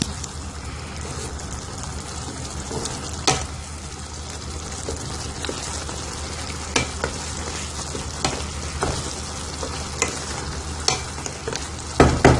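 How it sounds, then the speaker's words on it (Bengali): Tomato chutney frying in a pan and being stirred, a steady sizzle with soft scraping and occasional sharper clicks of the spoon against the pan, continuous and close. "এবার একটু নেড়ে চেড়ে আবার ঢেকে দেবো।"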